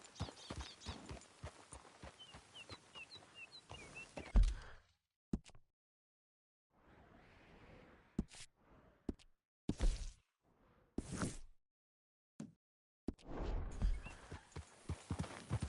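Horse hooves in Red Dead Redemption 2, a western video game: a quiet clip-clop rhythm at the start and end, with scattered thuds and brief sounds in the quieter middle stretch.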